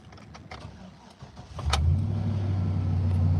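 A Ford diesel engine with a suspected fuel pump fault starts after a few clicks and rattles, then settles into a steady low idle, heard close with no talking.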